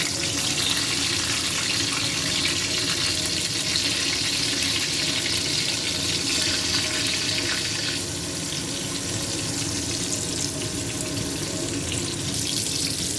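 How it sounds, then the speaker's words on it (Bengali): Eggplant slices frying in hot oil, giving a steady, loud, dense hiss and crackle that holds for the whole stretch with no voices. "এবার বেগুনটা ভাজবো। বেগুনগুলো দিয়ে দিলাম।"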